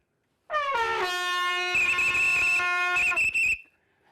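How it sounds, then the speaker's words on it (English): A Vietnam-era military combat whistle blown in one long, loud, shrill blast that lasts about three seconds, with a warbling trill partway through, then cuts off sharply. "This is a Vietnam combat whistle."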